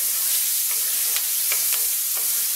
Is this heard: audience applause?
no